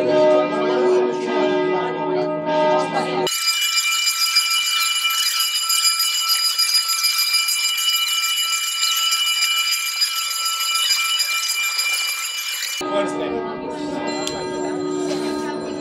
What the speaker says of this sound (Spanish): ¿cuánto duran estas campanadas?